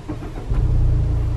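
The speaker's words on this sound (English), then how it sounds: "How do you start an engine? You have to hold the brake and then press that." Car engine started by push button while the brake is held, a brief low rumble that catches and settles into a steady idle, close and fairly loud, with no talk.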